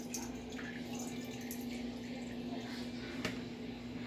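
A steady, soft trickle of homemade room spray pours continuously into a bottle, with a faint hum beneath and a small knock near the end.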